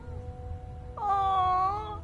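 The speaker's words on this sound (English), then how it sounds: "It's a little kitty." A cat in the video game Fallout 4 gives one clear, drawn-out meow at close range, rising sharply and then holding steady before it fades, with faint background ambience underneath and no talking.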